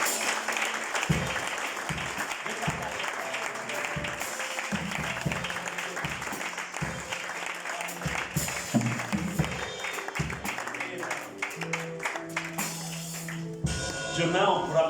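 A church congregation applauding the Lord during a service: steady, dense clapping throughout, with a voice speaking over it.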